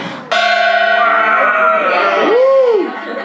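A gong struck at a comedy gong show in a club, one loud metallic crash that rings out with a long shimmering tone, followed by a swooping bending whine as it decays.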